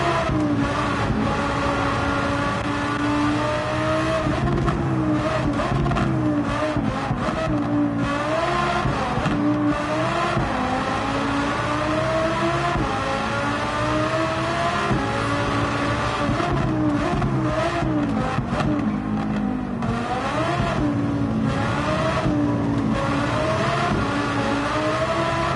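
A race car in Gran Turismo 7 lapping the Nürburgring Nordschleife, its engine revving hard and continuously with rising and falling pitch through gear changes, loud and close the whole way.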